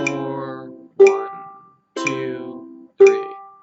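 Four plucked ukulele sounds alternate: the fourth string alone, then a block chord, repeated in an even rhythm, close and clear.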